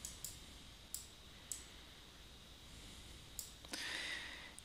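Sharp, faint computer mouse clicks arrive singly at uneven intervals in a quiet room, with a slightly louder click near the end.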